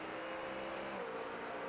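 A Ford Mustang GT race car engine in a racing video game at Watkins Glen, a steady loud roaring drone with a slight pitch sweep as it revs, heard alone without talk.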